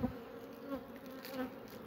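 Honey bees buzz around a hive, a steady close drone of many wings with small swells as individual bees pass near, and no one speaking.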